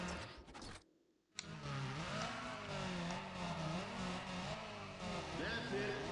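Race car engine roaring and revving in Need for Speed ProStreet, a loud sustained drone with shifting pitch after a brief dropout near the start, with speech underneath.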